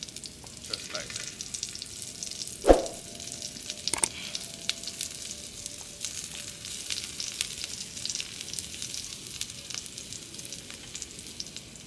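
Steady sizzle of food searing in a cast iron pot at an outdoor cooking setup, with a sharp clank near the start and light scraping; no talk.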